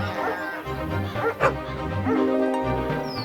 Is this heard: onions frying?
no